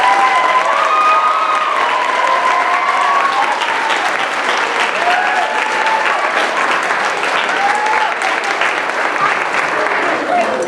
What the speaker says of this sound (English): I'd like a round of applause for all the students.